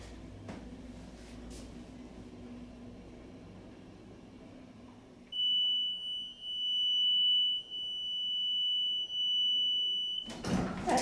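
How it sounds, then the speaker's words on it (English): A Westinghouse hydraulic elevator in a department store sounds a sustained high electronic alarm chime in long repeated tones with short breaks, loud and close, after a stretch of quiet car hum. "That alarm is so annoying. Or chime or bell or whatever you want to call it."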